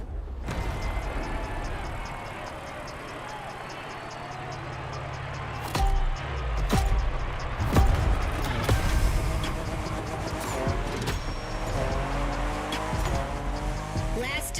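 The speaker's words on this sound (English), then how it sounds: "Let me present one of the new monsters of the festival, the 2021 Toyota Super Drift Edition" A 2021 Toyota Super Drift Edition drifts through a mountain time-attack run in The Crew Motorfest, its engine revving and shifting continuously while tires squeal in long, loud slides.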